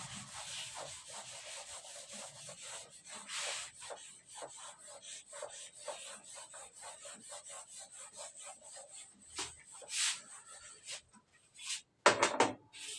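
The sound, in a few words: rubbing out writing on a board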